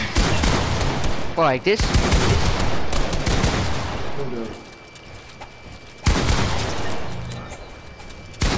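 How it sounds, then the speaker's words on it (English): Fortnite gunfire cracks out in loud, dense bursts near the start. Another burst follows after a quieter stretch, while players talk over the shooting. "Hey, look, I can shoot somebody like this."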